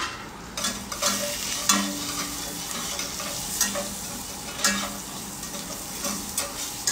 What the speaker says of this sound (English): eggplant sauteing here. And we are cooking in lovely olive oil this time